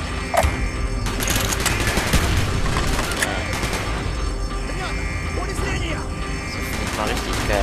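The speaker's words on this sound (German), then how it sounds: "Schüsse erregen Aufmerksamkeit." Bursts of rapid gunfire from the video game Call of Duty Black Ops, loud overlapping shots and cracks spread across the whole stretch, with players talking over the shooting.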